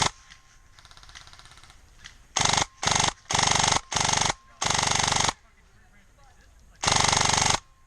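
A Specna Arms Prime SA_P03 airsoft electric gun fires several loud, close bursts of rapid full-auto clatter, the bursts separated by brief pauses and the last one the longest, with no voices.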